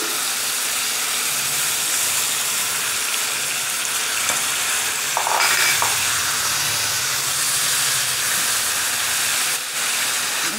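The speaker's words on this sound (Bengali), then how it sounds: "এবারে আমি এখানে দেবো চিকেনটা" Chicken pieces, cut large, added to a pot of fried onions for Afghani Kabuli pulao, giving a steady close sizzle and frying hiss throughout, with a brief louder burst of spatter midway.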